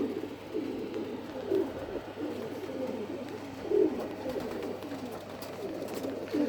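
Racing pigeons cooing inside a loft, soft low throaty coos repeating throughout at a steady moderate level with a few louder swells, no talking over them.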